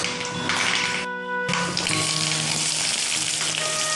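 Small onions and curry leaves fry in hot oil with a loud, steady sizzle close by. There is a brief drop in the hiss partway through before it carries on evenly.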